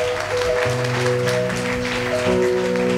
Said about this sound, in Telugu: అర్థమైన వాళ్ళు గట్టిగా చప్పట్లు కొట్టి దేవుని మహిమపరుస్తారు